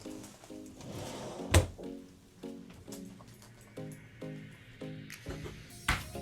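Small cabin drawers on a Symphony of the Seas balcony stateroom slide open and shut several times in a steady rhythm, with wooden thunks and clicks close by, one sharp knock standing out.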